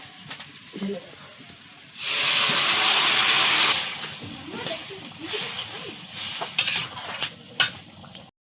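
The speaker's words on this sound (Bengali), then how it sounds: "একটু তেল দিয়েছি তেলে একটু পাঁচ ফোড়ন তেজপাতা কুচানো পেঁয়াজ আর রসুন কুচি ভালো করে তাতিয়ে নিলাম" Panch phoron, bay leaf, chopped onion and garlic hit hot oil with a loud, steady burst of sizzling hiss lasting a couple of seconds, then quieter frying with stirring clinks and sharp utensil taps, and faint talk in places.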